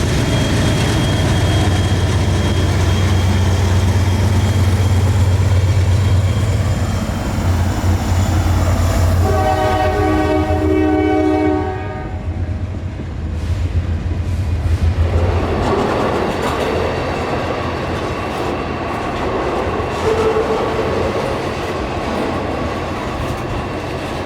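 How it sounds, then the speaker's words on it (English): A tank train rumbles past on its way toward the Allegheny Tunnel, loud and close, with a drawn-out horn blast partway through over the steady roar and clatter of passing cars. "there happened to be another tank train now taking the other track through the Allegheny Tunnel"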